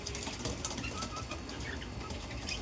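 A pigeon at a pigeon shop in Salar beats its wings in a dense, continuous flutter of rapid flaps, close by and steady for a few seconds with no talking.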